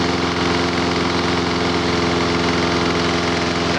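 A lawn mower engine runs steadily at a constant idle on a repair bench, a loud, even, buzzing drone with a tight rapid pulse and no change in pitch.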